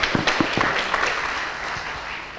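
A congregation claps for God during a church service, with a few distinct loud claps at the start that quickly blur into a fading wash of applause over a couple of seconds.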